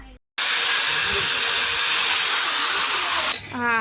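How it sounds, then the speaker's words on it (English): A handheld drill machine whirs steadily and loudly at close range, scouring carbon deposits off the cylinder head of an old Royal Enfield Bullet engine, running continuously before winding down at the end. "here also Dad is cleaning the carbon with the drill machine"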